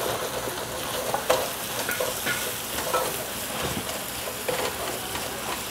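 Ginger garlic paste frying in a pan for chicken biryani while being stirred constantly, giving close crackling sizzle with irregular scraping strokes throughout.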